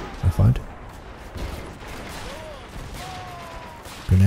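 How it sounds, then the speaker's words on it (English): MG42 machine guns fire in a World War II urban battle on the outskirts of Stalingrad, with short bursts and distant rattling gunfire under a voice, plus a louder close burst at the very end. "look at those MGs blazing. MG42s, I'm guessing."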